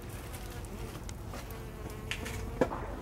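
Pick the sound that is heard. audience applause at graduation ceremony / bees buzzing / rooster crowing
bees buzzing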